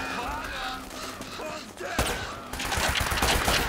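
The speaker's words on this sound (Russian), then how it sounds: "Кто стреляет вообще?" Gunfire in the video game Uncharted: Drake's Fortune crackles in rapid bursts, growing louder and denser partway through, with someone speaking faintly beneath it.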